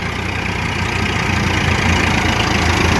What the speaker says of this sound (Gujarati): અહીંયા પડી છે આપણું ટ્રેક્ટર